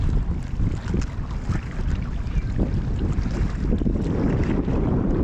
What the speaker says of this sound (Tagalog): Oh, lakas ng hangin ah.